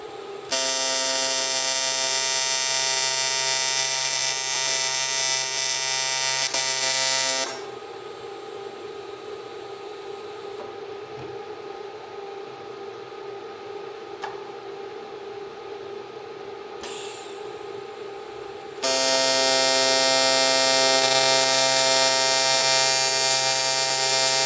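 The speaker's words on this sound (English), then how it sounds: "So I'm going to start to get this all tacked up" Electric welder tacking a custom catch can for a JZX100 build, heard as a loud steady buzzing hum that drops to a quieter crackle in the middle before the loud buzz returns, with no talk.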